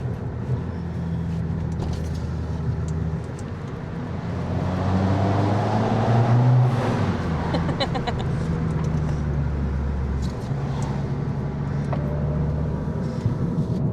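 Abarth car engine revving under a bridge, a loud, close roar that swells and holds in the middle, with the revs rising and falling and echoing off the structure, then settling back to a steadier drone.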